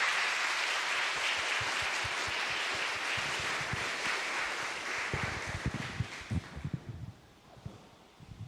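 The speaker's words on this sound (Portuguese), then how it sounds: "Uma salva de palmas." Congregation at an outdoor Catholic mass applauding after the Gospel reading, a steady wash of many hands clapping outdoors with wind noise, fading toward the end.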